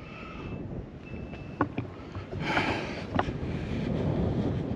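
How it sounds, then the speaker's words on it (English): Wind buffeting the microphone on a very windy hilltop, a loud, constant rumbling roar with gusts that swell and fade. "Pardon the wind. I live up on the windiest hill."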